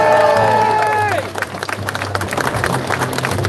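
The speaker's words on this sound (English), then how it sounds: "Big round of applause for Glenn." Crowd at an outdoor protest against violence in Letterkenny breaks into applause and cheering, dense clapping and shouts swelling after a brief held tone fades, with crowd noise throughout.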